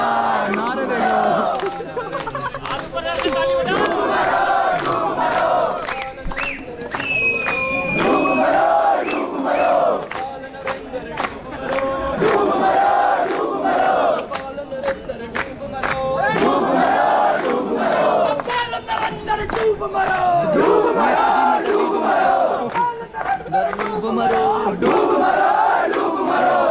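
Student protesters at a NEET protest at Gandhi Chowk in Pithoragarh chant slogans in loud rhythmic call-and-response waves, with clapping and shouting throughout.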